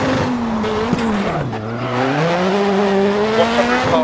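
A VW Polo R WRC rally car engine roars at high revs in a rally racing game, pitch dipping briefly then climbing again, with tire noise on gravel and no talk.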